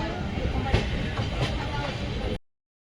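A passenger train bound for Somnath rolls along with a steady, loud rumble and faint rhythmic clatter, heard close from onboard for a couple of seconds before cutting out.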